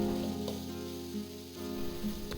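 Vegetables and spices stir-fried in a pan as filling for chicken and vegetable spring rolls, a steady soft sizzle running throughout, with faint stirring scrapes and no voices.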